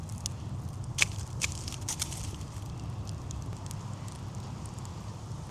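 A campfire crackles softly outdoors, with a few sharp pops early on over a steady low rumble of flames and wind, moderately distant and without talking.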